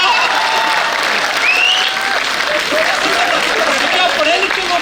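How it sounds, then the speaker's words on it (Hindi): Crowd at a Hindi political speech or comedy event breaks into loud, sustained applause, with whistles rising above the dense clapping throughout. "ताली नहीं बजाओगे तब तक कार्यक्रम नहीं दिखेगा।"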